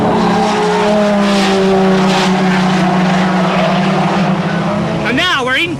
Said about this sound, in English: 1, 2, 3, 4, 5, 6, 7 cars burst out of Chapel Curve